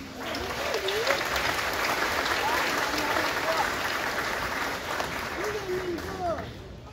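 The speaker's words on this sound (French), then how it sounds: "Vous méritez encore une fois une bonne main d'applaudissement" Sustained crowd applause at a scholarship awards ceremony with Lions Club bursaries in Campbellton, steady and moderately loud, with a few voices calling out above the clapping.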